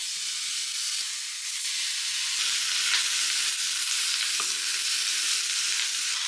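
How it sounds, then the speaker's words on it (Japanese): Bacon sizzles steadily in a hot pan in a home kitchen, a loud, continuous frying crackle with a few utensil knocks and no talking. "次はベーコンを焼いていきます。"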